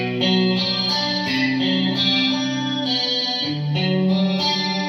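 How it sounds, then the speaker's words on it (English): Clean electric guitar chords ring out with a shimmering chorus and delay from a Fractal VP4, washed in reverb, sustained and full in an 80s clean style, without any voices. "the chorus delay, MTD on the VP4 is just a chorus delay reverb"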